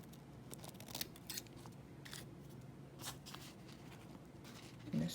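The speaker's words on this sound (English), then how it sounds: "I'm cutting another piece of napkin out" Scissors cutting through layers of paper napkin, a series of quiet, close snips and crisp cuts spaced irregularly over a soft background.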